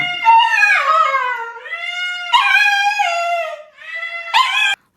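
A dog close by whines and howls in long, wavering, high-pitched cries, three drawn-out bouts with brief pauses between them.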